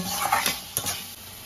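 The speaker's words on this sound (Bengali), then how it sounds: "মশলার সাথে চিকেনটাকে ভালো করে কষিয়ে নেব" Chicken paste sautéing with spices in a pan, a soft sizzle broken by a few close scrapes and stirs of the spoon over about a second and a half.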